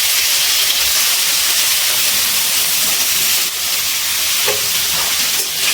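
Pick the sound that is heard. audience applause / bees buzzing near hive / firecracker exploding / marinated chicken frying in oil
marinated chicken frying in oil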